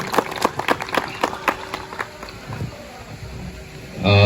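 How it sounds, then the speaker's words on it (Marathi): Scattered, sharp hand claps from an audience welcoming a visiting regional manager at a formal function, a few distinct beats that thin out and fade, with a louder burst of noise at the very end. "एकदा जोरदार टाळ्या वाजवून आपण त्यांचं स्वागत करूया."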